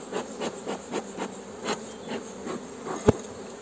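Honeybees swarm around an opened hive while it is checked after cold, rain and storm, giving a steady close buzzing hum that swells in repeated waves, with one sharp knock near the end.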